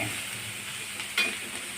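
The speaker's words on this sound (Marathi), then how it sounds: "अगदी व्यवस्थित परतून घेणे" Radish leaves sautéing in a pan give a steady close frying sizzle with stirring, and a brief scrape near the middle.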